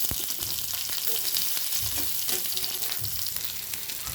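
Onion fries in hot oil in a kadhai with mustard seeds, cumin, curry leaves and peanuts for poli chivda. A dense, loud, continuous sizzle carries a few spatula scrapes and soft knocks, close up and without speech.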